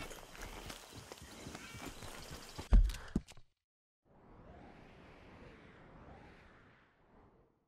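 Horse hooves clip-clopping in the video game Red Dead Redemption 2, a rapid run of close, loud strikes with a couple of heavy thuds, then a pause and softer distant rumbling.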